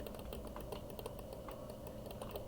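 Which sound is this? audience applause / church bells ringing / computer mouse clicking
computer mouse clicking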